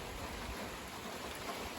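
Steady rain falls again after a passing squall line on a late-summer evening, a constant hiss of drops without pause, fairly close and alone with no voices.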